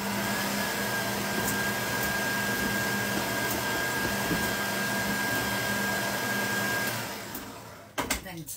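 An electric mixer whirs steadily, beating an egg into vanilla birthday cake batter, a loud continuous drone that stops near the end with a couple of clunks.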